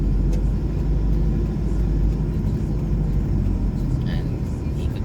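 A car drives through Quezon City toward the city hall, its low engine and road rumble steady and close throughout, with no other distinct sounds rising above the drone.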